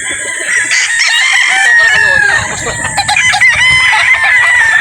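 A sweater gamefowl rooster crows loudly and close at a game farm, with clucking from other fowl around it and faint talk underneath.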